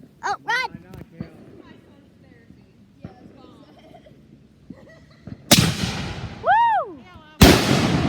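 Consumer fireworks going off outdoors at close range, with two sharp, loud explosive bursts crackling late in the sequence, amid people shouting and excited voices throughout.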